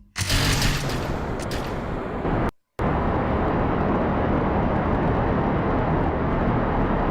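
A rocket engine in Kerbal Space Program roars to full thrust at launch, a loud, dense, continuous broadband rumble that briefly cuts out and then resumes steady and powerful.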